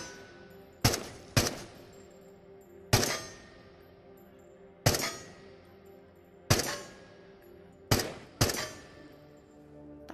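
Gunfire from a weapon in the VR game Into The Radius: seven sharp, loud single shots spaced irregularly about one to two seconds apart, each with a short decaying tail, over a quiet background hum.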